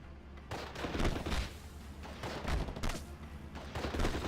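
In the WWII game Steel Division: Normandy 44, gunfire crackles through a town as dense overlapping rifle and machine-gun bursts, sharp and layered, steady from start to finish with no voices.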